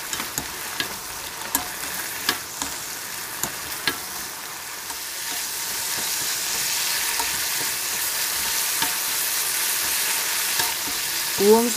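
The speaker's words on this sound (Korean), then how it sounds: "뚜껑을 열고 국물이 자작하게 되었으면 물엿 2큰술을 넣고 졸여주세요" Braised burdock simmers with corn syrup in an uncovered pan as the broth reduces, giving a soft continuous sizzle and bubbling, with sharp clicks of stirring early on.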